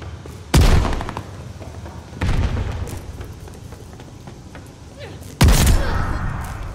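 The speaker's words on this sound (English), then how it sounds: "I got a double barrel shotgun." Three heavy blasts from a double-barrel shotgun in Call of Duty Vanguard multiplayer, each a loud close boom with a trailing rumble, spaced a couple of seconds apart amid game background noise.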